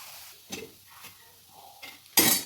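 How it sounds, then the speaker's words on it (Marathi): Crumbled leftover chapati is stirred in a pan with green chillies, giving a few soft scrapes and clinks of a spoon against metal, with a louder stirring rasp at the end. "थोडेसे मीठ टाकून छान परतवून घ्यायचं आहे"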